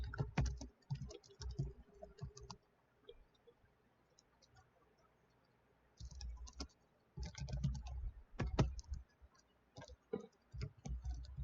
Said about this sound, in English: me hitting the keyboard's probably like being really loud because I'm using the laptop mic